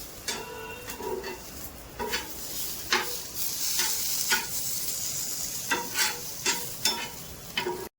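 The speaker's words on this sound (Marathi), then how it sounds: "तर कांदा आणि टोमॅटो आता सोबत परतणार आहोत" Onion and tomato sauté together in an iron pan, a soft continuous sizzle broken by regular scraping and knocking strokes of a spatula stirring, close by and without speech.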